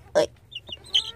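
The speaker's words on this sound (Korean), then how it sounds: "우리, 어, 모이도 먹고, 물도 먹으러 가자. 꼬꼬, 일로 와" Chicken clucking in short bursts, one loud call near the start and a brighter squawk toward the end, close by on a farmyard during feeding time.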